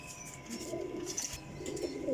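Teddy Golden pigeons, including a female, give soft, low cooing nearby in a brief, faint burst with no talk over it.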